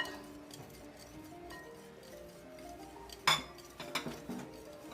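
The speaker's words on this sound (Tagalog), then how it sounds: "So, i-mix lang po natin ng dahan-dahan." A utensil gently stirs condensed milk and evaporated milk in a bowl for a no-oven egg pie, with soft scraping and a few clinks of metal against the dish near the end, quiet and close.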